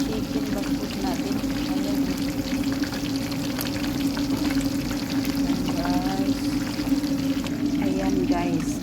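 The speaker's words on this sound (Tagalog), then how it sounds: "Ipiprito na natin kasi malapit na yung tanghalian dito" Chicken sizzles in hot oil for the lunchtime meal, a constant close crackling hiss with a low hum underneath, while a voice talks faintly over it.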